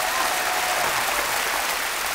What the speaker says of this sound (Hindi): बहुत बहुत तालियां बधाई बा